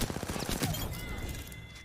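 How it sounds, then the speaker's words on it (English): Dense rapid-fire gunfire in a video game, a burst of overlapping shots that starts loud and trails off into a fading rumble. "Gunfire."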